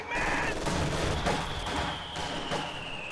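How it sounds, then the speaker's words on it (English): Mortar barrages and rifle fire in a strategy war game land on conscript infantry, a dense continuous crackle of shots and impacts with a few sharper thumps, loud and unbroken with no talk. "Mortars going in on conscripts"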